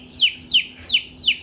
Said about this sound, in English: This chicken's black, Richard.